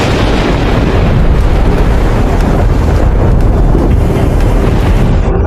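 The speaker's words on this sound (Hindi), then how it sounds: "आज ये आंधी कुछ ज्यादा ही तेज है।" A strong windstorm roars steadily and loudly throughout, a dense, unbroken rush of gusting air with deep rumbling underneath and no distinct thunderclap standing out.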